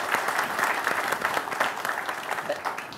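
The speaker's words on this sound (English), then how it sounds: "I think a round of applause is called for her." An audience gives a round of applause at a financial launch event, a steady wash of clapping that holds at even strength for the whole stretch, with no talk over it.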